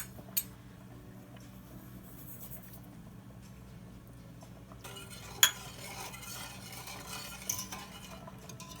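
A spoon stirring salt and pepper into a pot of cheese sauce for baked mac and cheese, giving a faint, steady soft scraping with a few light clinks against the pot, and no voices.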